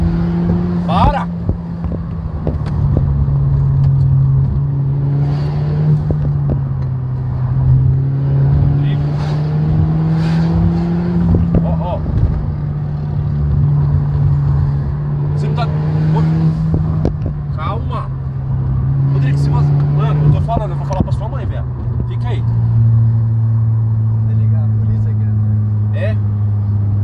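Turbocharged Volkswagen Jetta engine droning loudly and steadily with rising and falling pitch as it accelerates, heard close with people talking over it throughout.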